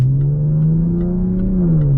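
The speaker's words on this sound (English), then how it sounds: "this engine is really zesty and makes a really nice noise, especially when you're up in the revs with the variable valve timing" A Jaguar XF petrol V6 with variable valve timing hums with a steady, loud, smooth engine tone that holds a constant pitch with a slight rise and dip, heard alone without talk.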